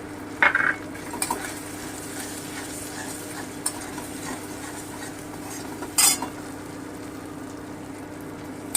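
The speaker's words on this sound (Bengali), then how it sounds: "এক চামচ ধনে গুঁড়ো আছে আমি একটু হালকা করে ভেজে নিলাম" Coriander powder lightly frying in oil with ginger paste for an onion-free egg curry, a soft steady sizzle with a couple of sharp spoon clinks against the pan, close with no talk.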